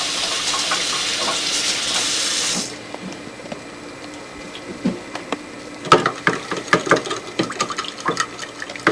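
Liquid poured into a jello mold, a steady stream for the first few seconds, then stops and gives way to scattered clinks and handling noises.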